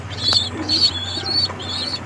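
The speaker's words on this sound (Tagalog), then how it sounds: "Papakain muna tayo ng mga kalapati natin." Pigeons kept as pets coo at feeding time, with several soft throaty coos in a steady rhythm close by and a light chirp among them.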